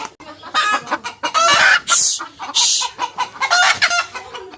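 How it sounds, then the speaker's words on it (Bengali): Free-range village hens cluck repeatedly nearby in loud, overlapping bursts, with a few sharper squawks among the steady calls and no talking. "নিজেদের হাতে লালন পালন করা মুরগি"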